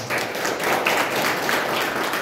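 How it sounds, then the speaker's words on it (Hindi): Audience applause at a training event in Betul district, Madhya Pradesh, a steady dense clatter of many hands clapping together for a couple of seconds, fairly loud and without speech. "जोरदार तालियां।"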